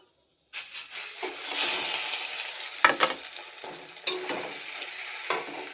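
After a brief silence, ground giant taro paste hits a pan of frying black cumin seeds with a sudden loud sizzle, then keeps crackling up close with several sharp scraping stirs.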